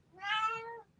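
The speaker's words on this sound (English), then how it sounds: "sorry, that was my cat" A domestic cat gives a single clear, close meow, rising and falling over about a second, with nothing else heard.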